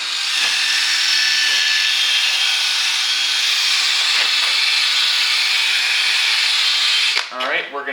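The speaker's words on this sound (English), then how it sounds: "The better of a job you do at sanding, obviously the better the headlight's going to come out, so don't rush this." A yellowed Acura TSX headlight lens is sanded with a powered tool, giving a loud, continuous high whirring hiss up close that cuts off near the end.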